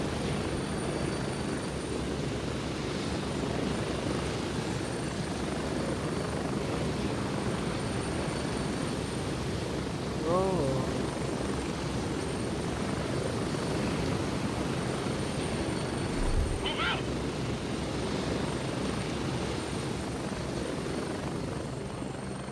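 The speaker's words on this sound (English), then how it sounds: "Helicopter drop in." Helicopter in the military shooter game Gray Zone Warfare, a steady, loud rotor and engine drone that holds unchanged throughout, with no talk.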